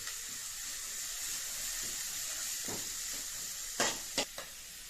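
An egg cutlet mixture with carrot and chili powder gets stirred in a bowl, heard as a steady soft hiss with a few sharp spoon clicks near the end.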